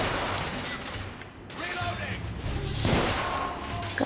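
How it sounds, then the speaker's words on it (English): Pistol gunfire in the game The Order: 1886, a few sharp shots and impacts amid game battle noise, with a voice briefly heard. "Pistol."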